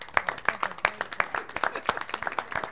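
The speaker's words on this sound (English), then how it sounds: "Big hand of applause." School committee meeting attendees applaud, a brief burst of crisp, fairly close hand claps with a steady uneven rhythm from a small group.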